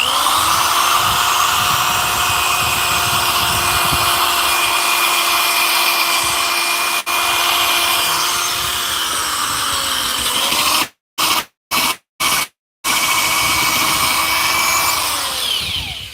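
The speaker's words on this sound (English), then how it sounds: "I'll use the paddle bit. Let's just see if this paddle bit is sharp." A 1980s Milwaukee drill bores into wood with a paddle bit, a loud continuous close-up whine and grind that holds for about eleven seconds, cuts out in several brief stops, then resumes and winds down.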